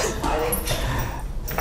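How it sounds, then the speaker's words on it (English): Two excited, hungry dogs at home yip, whimper and give short barks, close and fairly loud in quick bursts, with a person's voice mixed in. "we have two dogs and they're kind of getting out of hand here"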